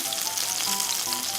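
Kue (longtooth grouper) pieces coated in potato starch fry in a pan with a steady, close, loud sizzle and crackle, no voices over it.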